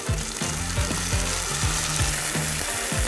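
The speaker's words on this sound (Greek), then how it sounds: "Επόμενο βήμα είναι να το σβήσουμε με κόκκινο κρασί." Red wine hits a hot pan while imam bayildi is cooked and sizzles steadily, joined by a rhythmic scraping stir that repeats roughly every half second.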